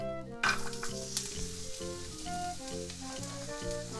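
Onions sizzle and fry in a hot pan for egg fried rice, a steady crackling hiss with a sharp burst at the start as they hit the oil, under background music.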